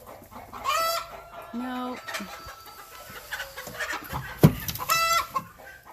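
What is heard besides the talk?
hens clucking in barn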